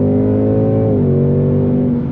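A stock Kia car pulls hard under acceleration, its engine note dropping abruptly as a quick gear shift lands about a second in, then climbing again, loud and close with no voices.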